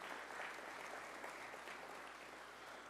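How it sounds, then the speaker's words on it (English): An audience at a Detroit Lions event applauds steadily, a dense wash of clapping that holds even throughout, with no voices standing out. "Give these guys a round of applause for being with us"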